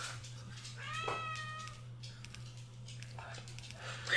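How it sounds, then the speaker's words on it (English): A cat meows once, a short rising call close by, over a steady low hum and soft rustling; a faint whispery voice is present. "the cat is making noises"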